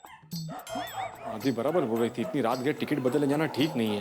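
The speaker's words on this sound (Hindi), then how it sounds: "ऊपर से कुत्ते भी भौंक रहे हैं।" Night-time dogs barking and whimpering near a housing society, repeated yips under and between steady speech from a person.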